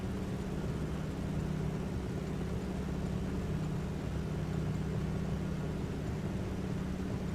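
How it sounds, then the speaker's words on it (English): A steady, droning de Havilland DHC-2 Beaver engine hum in Microsoft Flight Simulator 2020, with a constant low rumble and broadband noise, unchanging throughout. "The engine sounds seem to be better, more realistic"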